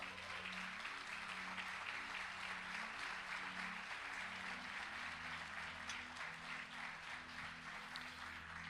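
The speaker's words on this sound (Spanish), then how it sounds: "así que fuerte el aplauso para ellos" Sustained applause from a church congregation at a general meeting, steady dense clapping throughout with faint background music tones underneath.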